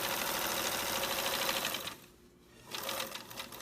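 A sewing machine runs a fast, steady stitching burr along the seam of a drawstring bag, pausing briefly for a back tack before resuming at full speed, loud and close with no talk.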